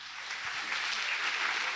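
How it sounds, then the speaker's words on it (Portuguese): Church congregation applauding strongly, a steady broadband wash of many hands clapping together, moderately loud and continuous throughout with no talk over it. "Aplauda bem forte ao Senhor"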